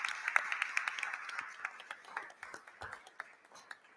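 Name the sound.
audience applause at board meeting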